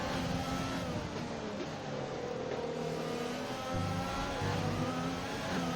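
Race cars in a racing video game sliding through a chicane at the Italy round, with a steady, continuous engine roar at mid distance that stays loud throughout.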